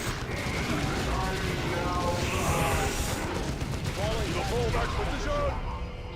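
Heavy automatic gunfire and explosions in a Warhammer 40,000 video game battle against Tyranids, a loud continuous barrage of rattling shots and blasts with shouted voices mixed in.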